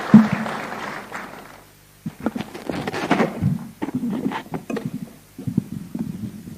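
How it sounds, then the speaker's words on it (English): A crowd applauding at a national wage bill conference at Bomas of Kenya, a dense patter of clapping that stops briefly, then resumes in uneven bursts, moderately loud and close. "Let us welcome him kindly with a hearty hand clap."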